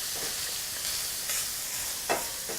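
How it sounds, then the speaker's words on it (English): Spices toasting on meat in a dry pan while preparing a low carb supreme pizza bake, giving a constant bright hiss with a few soft scrapes of stirring and one louder clack; no voices. "I just want to like toast these spices on the meat, just in the pan, a dry pan like this"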